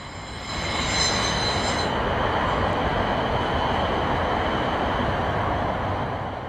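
Class 450 electric multiple unit train on a local service near Weymouth, a loud rushing roar of wheels and traction that swells in and holds steady, with a brief high whine early on.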